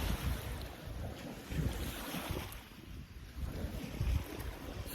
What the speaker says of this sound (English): I hope you can hear me over these waves. They're very beautiful, but they are noisy.